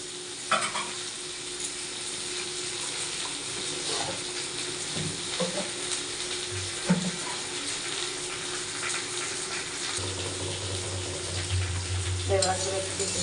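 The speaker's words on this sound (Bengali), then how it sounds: "এগুলো ভাজা ভাজা করে নিচ্ছি বন্ধুরা। তার সাথে সিমগুলোও দিয়ে দিচ্ছি, একদম ভেজে নিচ্ছি।" Vegetables and half-boiled flat beans fry in a pan, giving a faint continuous sizzle with occasional stirring scrapes and clicks, plus a low hum in the background.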